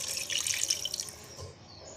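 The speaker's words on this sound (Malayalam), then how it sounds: "ഇനി നമുക്ക് ഇതിലേക്ക് പാകത്തിലാണ് വെള്ളം ഒഴിക്കാം." Water poured from a tap into a spiced biryani mixture of yogurt, pepper powder and salt, a steady close splashing stream that tapers off near the end.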